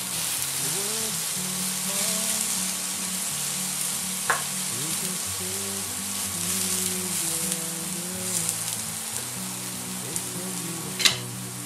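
Shallots and mushrooms fry steadily in a pan with a continuous bright sizzle, broken by a couple of sharp utensil clicks and a low background hum and tones; no one speaks.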